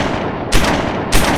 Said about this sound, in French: Les 300 canons et coulevrines de Bureau viennent de faire feu.